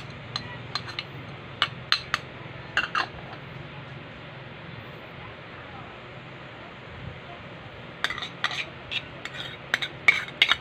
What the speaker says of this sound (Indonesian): Haloin lang lahat ng ingredients.